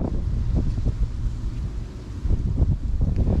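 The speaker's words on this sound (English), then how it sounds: "Not sure how good this audio is because the wind did pick up again." Wind buffets a microphone outdoors while fly fishing along a bank, producing a continuous low rumbling roar with gusty swells and no speech.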